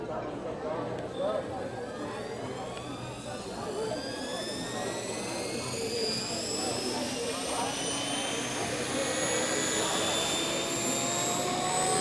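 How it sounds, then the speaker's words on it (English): An RC helicopter flown indoors inside a Storming Crab restaurant, giving a steady, loud, high-pitched whine with rising and shifting rotor tones that lasts throughout without a break. "Man, I love flying RC helicopters."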